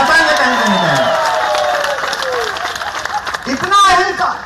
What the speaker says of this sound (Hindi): दोनों हाथ उठा के तालियां बजा के बताइए